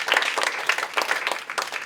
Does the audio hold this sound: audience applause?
yes